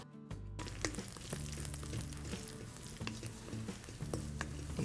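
Raisins sizzle and fry steadily in a pan while being stirred for sheer khurma, a vermicelli milk pudding, with continuous close crackling and occasional scraping taps throughout and no talk.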